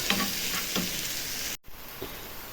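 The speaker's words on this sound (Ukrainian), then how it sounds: "підсмажую цибульку на ці почаровані яйця" Chopped onions frying in a pan for an egg filling, a steady close sizzle with a few stirring scrapes and a brief dropout midway.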